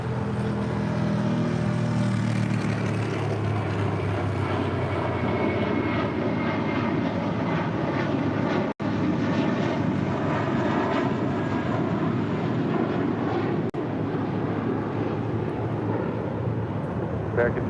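A SkyWest regional jet roars down runway 25 right at LAX on its takeoff roll, a loud, sustained jet engine rumble and whine that swells and holds over the full span, with faint radio voices underneath.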